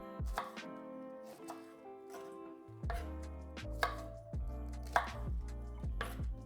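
A kitchen knife slices Brussels sprouts in half on a cutting board, giving a series of crisp, close chops with a steady rhythm and sharp thuds, no talking.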